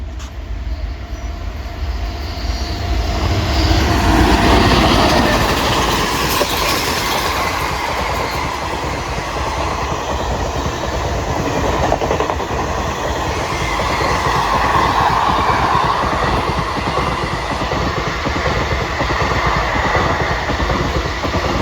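Malabar Express, running from Thiruvananthapuram to Mangalore, rumbles past a small rural station in monsoon rain, with steady loud wheel clatter and rolling noise that holds throughout and swells slightly as the coaches go by.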